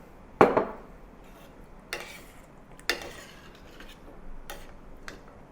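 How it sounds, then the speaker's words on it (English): Braised pork ribs get turned in a pan of thick gravy, giving a few soft, scattered clinks and scrapes of utensil on pan against a quiet background. "Now I return the pork ribs to the pan and to coat it with the thick gravy."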